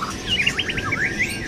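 A young white-rumped shama with six tail bars sings a quick, bright burst of chirping notes close by, over low background noise.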